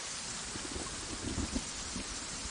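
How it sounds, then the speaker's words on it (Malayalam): Heavy rain pours in a steady, dense hiss with faint low rumbling beneath, constant and unbroken throughout with no voices. "ഇതുപോലെ ഭയങ്കര മഴയായിരുന്നു."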